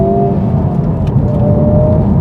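Engine of a Honda Civic Type R FL5 front-wheel-drive hot hatch, a steady mid-level drone with faint whine heard from inside or close by, fairly subdued and unexciting, with no talk over it.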